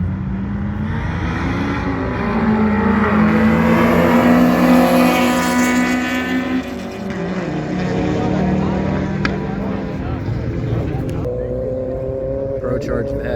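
A loud engine roar from a ProCharged Corvette and a BMW lined up for a no-prep street race. The engine revs and drones in a rising, falling pattern, with crowd voices and shouting underneath and over it.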